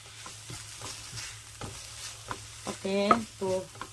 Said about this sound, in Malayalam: ഇപ്പം ഞാനിത് ചെറിയ ഫ്ലെയിമിൽ വെച്ചിരിക്കുകയായിരുന്നു അപ്പം ഇതൊന്ന് ഇളക്കി നോക്കട്ടെ